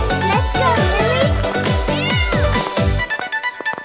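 A cat meows repeatedly in a steady series of close, loud calls, about eight in a row, with a softer clattering tail at the end.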